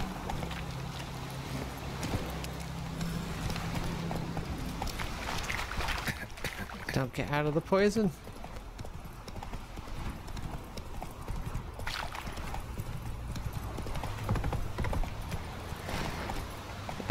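Horse hooves clip-clopping in The Witcher 3 on PC, steady mid-distance hoofbeats with a brief whinny partway through, under game ambience and a player talking.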